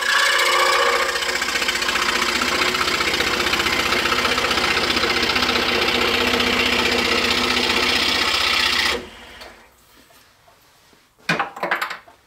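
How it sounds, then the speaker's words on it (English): A scroll saw runs steadily for about nine seconds with a continuous buzzing, vibrating motor drone, close and loud, then stops abruptly, leaving faint workshop sounds and a brief clatter near the end. "You don't have to use a scroll saw. I'm just using it because it was here and it was already set up."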